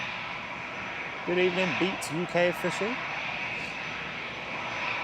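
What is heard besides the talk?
EasyJet airliner engines at Manchester Airport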